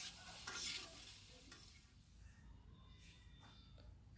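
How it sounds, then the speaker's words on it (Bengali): Vegetables with salt being stirred as they fry in a pan for a rohu fish curry with okra: faint sizzling with soft scraping and shuffling stirs, quiet and close. "এখন আমি ভালো করে নেড়ে চেড়ে মিশিয়ে নিচ্ছি।"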